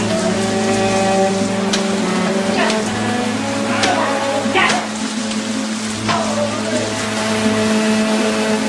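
Heavy rain pours down steadily, a dense, loud hiss with scattered sharper splashes over a low, constant hum.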